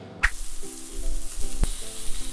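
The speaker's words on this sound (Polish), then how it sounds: "Jeszcze chwileczkę będziemy ją na drugiej stronie smażyć" Breast meat fries in a hot pan on a kitchen cooking show, giving a steady close sizzle with a few sharper pops and crackles and no talking.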